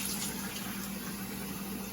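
Hot water for tortilla dough pours into a measuring cup in a steady, close, rushing trickle that runs continuously, with no talking.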